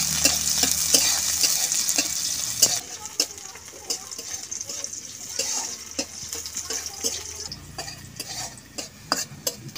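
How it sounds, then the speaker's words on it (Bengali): Cumin and chopped onion fry in hot oil, a steady sizzle with repeated clinks and scrapes of a spoon stirring the pan, close and continuous throughout. "ওই জন্য আলাদা জিরে ভাজি করে নিচ্ছি।"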